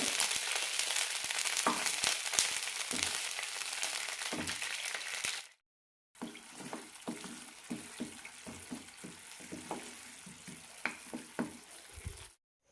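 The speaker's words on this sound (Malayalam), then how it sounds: "ശർക്കര നന്നായി ഉരുക്കിയെടുക്കാം" Jaggery melting in half a cup of water in a pan, a steady hiss and bubble with light stirring taps, cut by a short silent gap before the simmer resumes, no talking.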